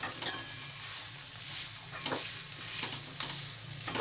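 Pav bhaji vegetables being mashed and stirred on a hot tawa, with a soft steady sizzle and repeated scraping strokes of the masher against the metal, quiet and close.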